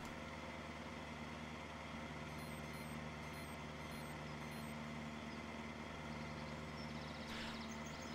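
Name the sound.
truck driving and reversing beeps in a farming video game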